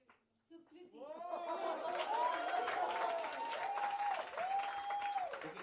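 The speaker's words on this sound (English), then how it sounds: "Big cheer for Bhavi, Ishita, and Sukriti" A live promotional event crowd cheers and applauds loudly and steadily, with scattered chuckles mixed into the sustained clapping, while voices carry over the noise throughout.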